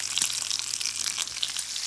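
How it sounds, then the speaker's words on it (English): Bacon frying in a pan for a crockpot chili, a steady close crackling sizzle with quick pops spread throughout, no voices. "I'm starting off by frying up some bacon, and we want to let that get nice and crispy."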